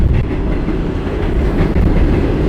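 A New York subway F train car rattles and clatters along the rails from the inside, a loud, continuous rumble with rhythmic clickety-clack under no talk.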